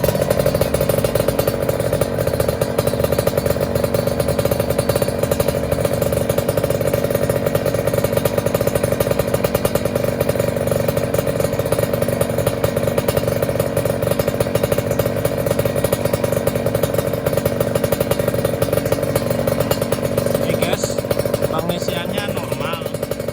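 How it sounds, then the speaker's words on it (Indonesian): A Kawasaki Ninja 150RR motorcycle engine runs steadily at idle throughout, a constant close drone with no pauses. "Kita nyalain dulu motornya ya."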